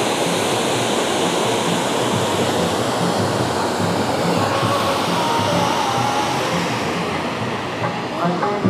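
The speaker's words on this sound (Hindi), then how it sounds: "अभी मैं आप लोग को झरना दिखाया" Constant roaring rush of a waterfall at Chitrakoot, loud and steady throughout, with faint voices mixed into the noise.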